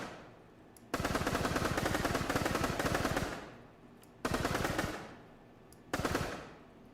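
Automatic gunfire from a retro online first-person shooter game built in a custom C++ engine, fired in three bursts: a long sustained rattle followed by two shorter ones, loud and close with quiet gaps.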